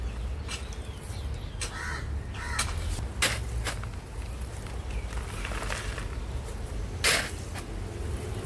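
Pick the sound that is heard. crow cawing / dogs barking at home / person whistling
crow cawing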